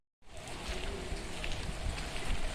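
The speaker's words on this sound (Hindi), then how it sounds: "देखो हमारे यहाँ बारिश फिर से बारिश आ रही है, हल्का हल्का बारिश" Light rain falls steadily outdoors as a soft, even hiss that starts abruptly and continues at a low, constant level. No one speaks.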